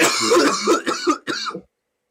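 A person coughs hard several times in quick succession, loud and close, then silence.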